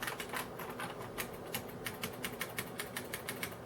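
Steady, rapid clicking of keys being typed on a beige Unicomp Model M 103-key PS/2 buckling-spring keyboard, a close and crisp run of keystrokes with no talking.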